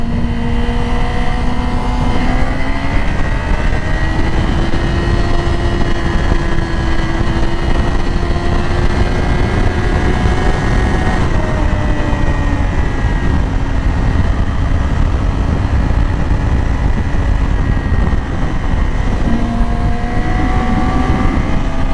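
A Yamaha R6 motorcycle is ridden with a steady high engine drone whose pitch rises and dips slightly, heard loud and close amid constant wind rush and no talking.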